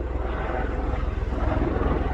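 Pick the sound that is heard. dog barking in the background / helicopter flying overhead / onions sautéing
helicopter flying overhead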